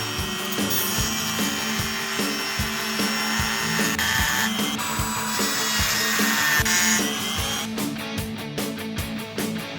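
Rhythmic sawing strokes rasp back and forth through stiff plastic along a marked line, a close, steady cutting sound with a brief pause and faster strokes near the end.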